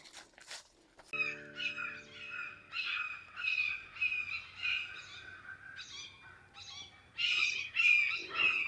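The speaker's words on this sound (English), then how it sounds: "There's a bird pack going on. Listen, guys, listen." A chorus of birds calling and squawking repeatedly outdoors, overlapping harsh calls at moderate distance, with a brief low tone early on.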